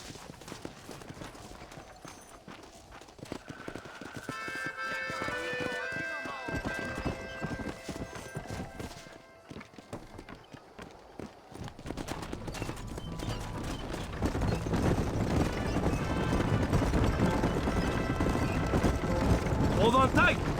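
Horse hooves beat along in Red Dead Redemption while the horse rides beside a wagon, with a neigh along the way. The hooves sit under game music and rushing wind that swell toward the end.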